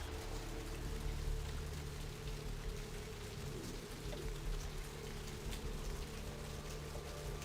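Steady rain falls on a city street in the video game Vampire the Masquerade - Bloodlines, a constant hissing downpour with no pauses.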